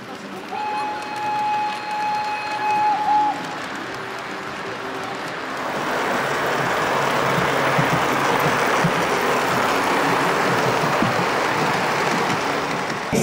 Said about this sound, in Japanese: これは本物の鉄道の構造を忠実に再現した線路や車輪などを使っているからこそ表現できた音なのです。